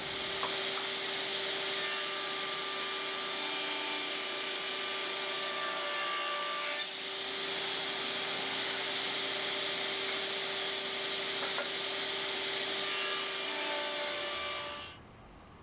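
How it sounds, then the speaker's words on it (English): Pieces of 3/4-inch scrap wood are cut to length with a power saw, a steady high-pitched whine and rasp that stops briefly midway, then resumes before winding down at the end, heard close and alone. "we're going to take our 7 pieces of 3/4-inch scrap wood and we're going to cut it down to 12 inches in length"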